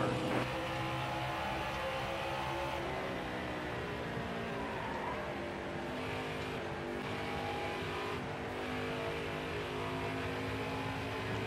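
A NASCAR Camping World Truck Series racing truck engine at Phoenix Speedway drones at a high, steady roar throughout, loud and continuous with slight shifts in pitch as it holds speed, no voices.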